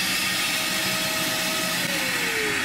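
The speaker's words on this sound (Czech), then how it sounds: "A když pustím ten vysavač, tak uvidíte, že se ten igelit nasaje," A household vacuum cleaner, its hose pushed under plastic sheeting for dust-free concrete cutting indoors, runs with a steady loud whine and airy rush that holds throughout, its pitch dipping slightly near the end.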